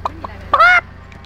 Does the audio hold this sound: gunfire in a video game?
no